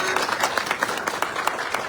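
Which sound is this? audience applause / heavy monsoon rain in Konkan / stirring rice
audience applause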